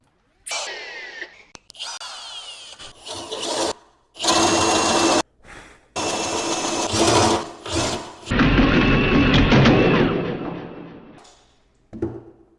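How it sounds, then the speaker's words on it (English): A power drill whirs in several bursts while drilling a hole in wood, stopping and starting, with a long steady run near the end and a few knocks in between. "I'll use this right here to drill a hole right here."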